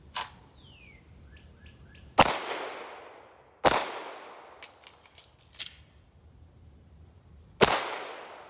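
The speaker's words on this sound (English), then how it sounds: "the shooter has to draw and fire 2 rounds into the body from a standing position" Glock 19 pistol fired during a police firearms qualification course: four sharp, loud single gunshots spaced a second or two apart, each with a short decaying echo, plus faint clicks and metallic handling sounds between them.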